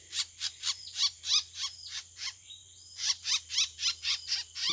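A fantail bird calls in a repeated series of high, sharp chirps and twitters at close range, steady rhythmic notes with a brief pause midway, over a low constant hum and with no talking.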